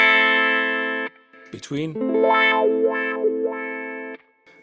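A distorted guitar is played through a Kemper Profiler wah in Cry Baby mode. A held chord gives way to a brief spoken word, then sweeping vowel-like wah motions between heel and toe positions, and a sustained tone returns.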